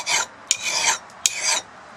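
Hand file rasping across a rusty garden tool blade to sharpen it, three long rhythmic strokes with sharp clicks between them, close and clear with no talking.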